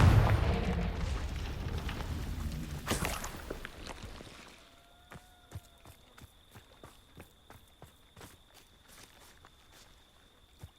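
A Confringo fire spell blast in the video game Hogwarts Legacy opens with a loud rumbling burst that fades over about four seconds, followed by a regular series of sharp, lighter footstep-like thuds and clicks, with no talk.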